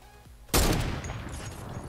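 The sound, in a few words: gunfire from the player's gun in the video game Fortnite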